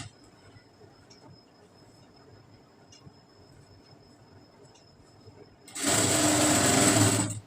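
After several seconds of quiet room noise with a faint whine, a sewing machine stitching fabric at home bursts in loudly near the end and runs in a steady, close-up whir for under two seconds.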